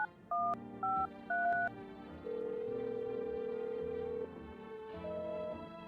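Telephone keypad tones in the video game Social Anxiety Disorder Simulator: a few short dialing beeps in quick succession, then a long steady tone and a final shorter one, clear and alone with no talking.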